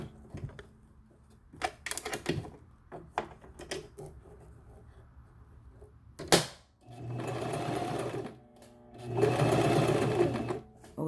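A sewing machine stitches a wig in two sustained whirring runs, preceded by scattered clicks and short bursts as the machine starts and stops, close and moderately loud.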